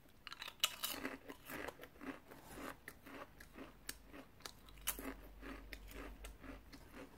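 Close, crisp crunching and chewing of Taiwanese shrimp chips heavy with seasoning, a steady run of bites and crackles in a quiet room with no talking.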